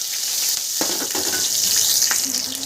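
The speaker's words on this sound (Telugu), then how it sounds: "నూనె వేడెక్కినప్పుడే ఉల్లిపాయలు, పచ్చిమిరపకాయలు, జీలకర్ర, ఆవాలు వేసుకోవాలి." Onions, green chillies, cumin and mustard seeds sizzle in hot oil in a pan, giving a steady close crackle with small pops and stirring scrapes throughout.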